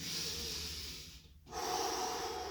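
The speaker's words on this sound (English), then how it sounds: "I always do this breathing" Slow, deep breaths up close: a long airy exhale, a brief pause, then a strong hissing inhale, with no talking.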